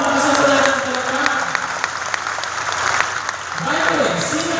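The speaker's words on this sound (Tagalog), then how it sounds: "Palapakan natin si Miss Cristina Lasso." An audience at a seminar on early retirement claps in a sustained burst of applause that dips slightly midway, then swells again while someone talks over it.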